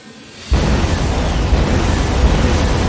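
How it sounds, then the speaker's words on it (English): A loud film explosion blast erupts after a brief quiet moment, followed by a sustained roaring, rumbling wall of noise that continues without letup. "All of these explosions just cause minimal damage."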